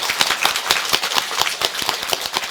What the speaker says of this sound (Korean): 오늘은 내 말이 신통찼나 박수가 적다